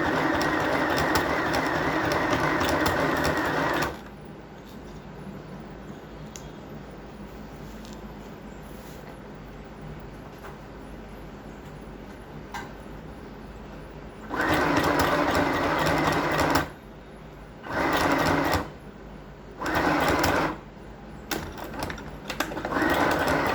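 Sewing machine stitching a trouser front from waistline to crotch, running in bursts: one long opening run, a pause, then a longer run and several short start-stop spurts, close and loud.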